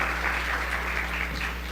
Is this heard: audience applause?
yes